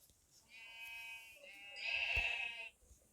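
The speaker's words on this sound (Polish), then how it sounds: "Owca. Mam owce." Two drawn-out, slightly synthetic Minecraft sheep bleats sound one after another, the second louder, against a quiet background.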